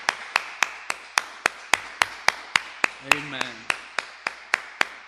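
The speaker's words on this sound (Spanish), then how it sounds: "A mí me gustaría darle un aplauso al Señor Jesucristo" A church congregation claps in steady unison, about three even claps per second throughout, while a voice briefly speaks midway.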